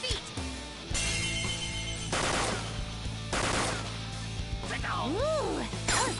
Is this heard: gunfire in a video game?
yes